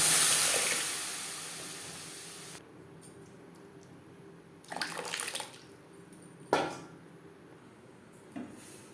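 Water pours into a pot of masoor dal with onion, a loud gushing rush at the start that cuts off, followed by a few scattered splashes and clanks against the pot.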